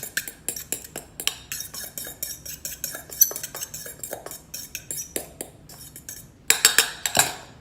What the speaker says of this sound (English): Kind of give that another mix up.